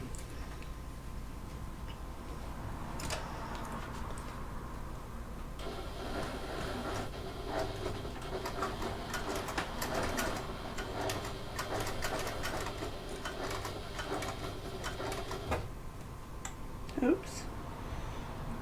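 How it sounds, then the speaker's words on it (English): A domestic sewing machine top stitches a bulky fabric wallet at a long stitch length, running in a steady rapid mechanical chatter for about ten seconds between quieter handling, with someone talking. "I'm going to use a stitch length number 4 to top stitch this"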